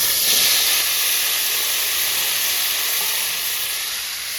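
Chopped tomatoes hit hot oil tempered with mustard seeds and dried chilli, bursting into a loud, steady sizzle that hisses continuously close by and eases slightly toward the end, with no talking.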